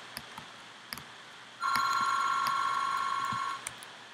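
A mobile phone ringtone heard while Minecraft Hunger Games is being played, a steady electronic ring lasting about two seconds that starts abruptly and stops, over faint clicks and background noise.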